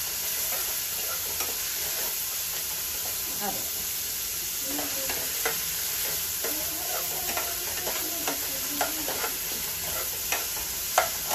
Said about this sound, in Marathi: आता आपण छान असा कांदा परतून घेऊया. मस्त लाल पण नाही जास्त, ब्राऊन असा.